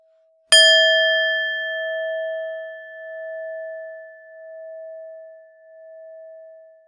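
A singing bowl struck once during meditation, giving a sharp metallic onset that settles into a long, pure, sustained ring, slowly pulsing in loudness as it fades, alone in silence.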